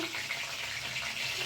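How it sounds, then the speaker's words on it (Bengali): A steady hiss of cumin seeds sizzling in hot oil, even and continuous from start to finish, close up with no talking. "একটু জিরে ফোড়ন দিয়ে দিলাম"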